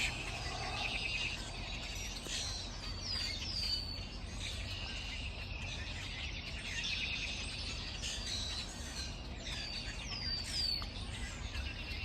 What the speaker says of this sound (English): listen to all the birds you can hear in the grass behind me